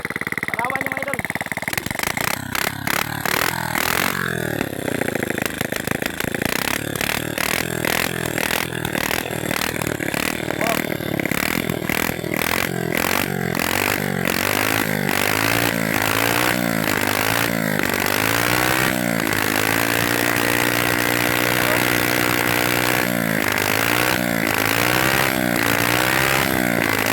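A plastic pyrolysis fuel machine runs loud and steady, a rough engine-like clatter with shifting revving tones and scraping, while someone talks over it throughout.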